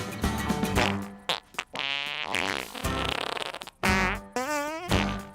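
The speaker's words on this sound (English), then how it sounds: "Why are we farting in the song?" Comic farting noises from a Horrible Histories song, a string of loud, buzzy, sputtering blasts of varying pitch and length, some drawn out and wavering, with short gaps between them and no talking.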